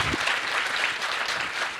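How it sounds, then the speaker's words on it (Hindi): An audience applauds for the film Chhaava, a dense burst of clapping that holds steady throughout this short moment at an interview event. "सो एक तो छावा के लिए हो जाए तालियां।"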